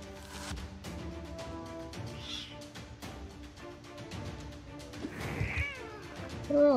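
Meowing and caterwauling from a cat in the video game Black Book, rising strained yowls set against steady game music and ambience, with a louder wailing burst near the end.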